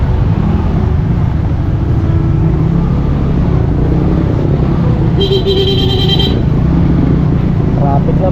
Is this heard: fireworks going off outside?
no